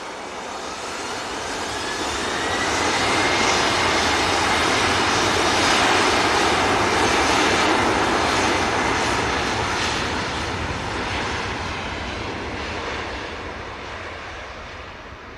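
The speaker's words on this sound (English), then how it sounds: "TAP Air Portugal just rotating from 2-3 left" A TAP Air Portugal airliner rotating off runway 23 left at Manchester Airport, its broad jet roar swelling over several seconds, peaking mid-takeoff, then slowly fading as it climbs away.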